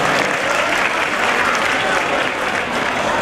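An audience at a kirtan gathering claps loudly and continuously, a dense steady wash of applause filling the whole short stretch with no pauses.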